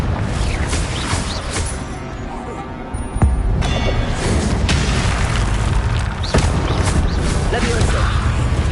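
Confringo blasting spell explosions in the Hogwarts video game: two booming bursts, one sharper near the middle and a softer one later, over a dense, continuous wash of game sound.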